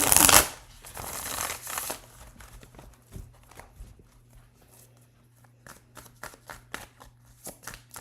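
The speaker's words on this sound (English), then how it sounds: "Let's give it one more shuffle" Tarot cards are shuffled by hand in a burst of dense riffling, followed by softer intermittent slides, taps and flicks of the deck, close and quiet.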